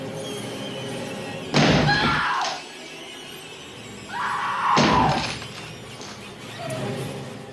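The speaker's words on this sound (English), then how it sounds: "he is using a fireman's axe to break down a wall" A fireman's axe smashes into a wooden wall in a tense film scene, with two heavy splintering impacts and a lighter third blow, each loud and sharp against a dim ambient background.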